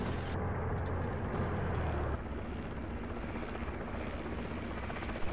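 Helicopter in the tank video game Armored Warfare, a rumbling rotor drone with a rapid beating pulse, louder at first and then dropping to a steady lower hum, with no talking.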